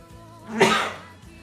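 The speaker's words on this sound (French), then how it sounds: "Je vais éternuer." A single loud, close sneeze bursts out after a brief intake of breath, with a quiet room around it.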